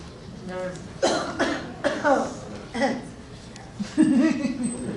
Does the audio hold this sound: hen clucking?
no